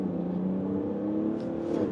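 Mercedes diesel SUV pulling away hard from a standstill, a steady loud engine drone rising in pitch as it accelerates, heard from inside the cabin with no talk.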